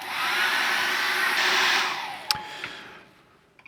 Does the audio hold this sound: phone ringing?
no